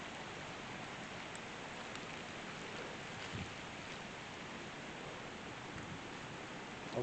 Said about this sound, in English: You can see the rain falling on my camera.